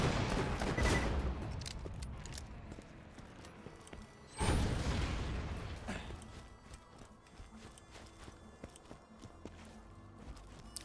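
Gunfire from a Maggie pistol with a shotgun-style bullet spread, fired at bandits in the Borderlands video game: two loud, heavy bursts, the second near the middle, each fading into a rumbling tail over ongoing game noise.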